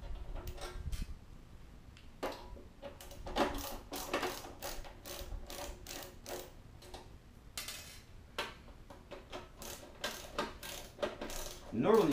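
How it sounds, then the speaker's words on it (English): Screws being backed out of the rear panel of a Comcast DCX3400 DVR, giving scattered close ratcheting clicks and small metallic ticks in irregular bursts against a quiet room. "So you gotta take the screws off the back."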